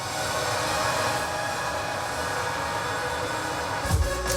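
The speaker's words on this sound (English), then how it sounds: "This is the reverb that we do on the master." Boosted Ableton reverb on the master bus washes out as a dense, hissing wall of sound, steady and loud throughout, with a low thump near the end.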